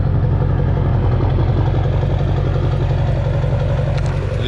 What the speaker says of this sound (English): let me let you guys hear how great this 5-inch exhaust sounds.